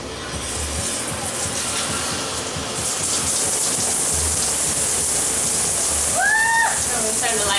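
Steady, loud hiss of water spraying from a color-changing LED shower head, a dense unbroken rush that fills the whole stretch, with a brief chirpy squeak near the end.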